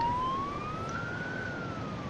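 A police siren from the video game Emergency 4 with a Poland mod wails in a steady, slowly rising and falling tone, moderately loud and alone with no talk.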